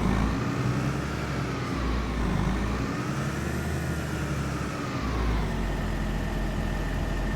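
A tractor engine in the Farming Simulator 25 video game drones steadily at a low idle with slight shifts in pitch, continuous and close, with no talk.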